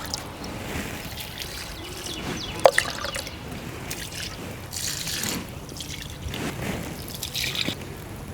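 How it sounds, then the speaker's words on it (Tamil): Liquid fertilizer trickling and dripping as it is poured onto rose plants in a terrace garden, soft intermittent splashes with one sharper drip, close and fairly quiet. "நான் இது எல்லாமே வந்து நான் 2 கப்பு ஊற்றுறேன்."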